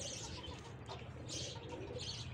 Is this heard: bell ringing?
no